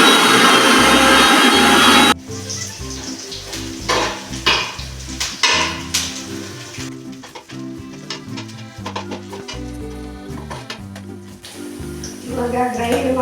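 Raw banana stir fry (balekai palya) with grated coconut stirred in a pan: about two seconds of loud sizzling and scraping, then background music takes over with faint pan noise beneath it.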